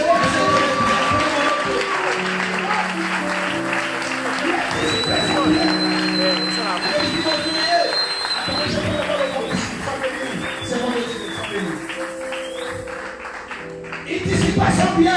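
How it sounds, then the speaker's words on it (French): A church congregation cheering and applauding in praise of God, a continuous crowd of clapping and shouts filling the room, with voices speaking throughout. "Qui peut acclamer Dieu?"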